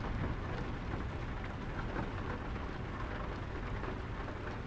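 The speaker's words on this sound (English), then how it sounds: "the rain hitting the roof of this vehicle is going to be a little loud" Steady, loud rain drumming on the roof of a truck cab in Euro Truck Simulator 2, a dense continuous patter throughout with no talking.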